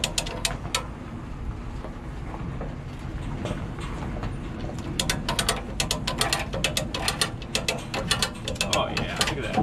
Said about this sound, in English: I'm hoping I can just hook a come along here to the foot up to the top there and kind of crank her up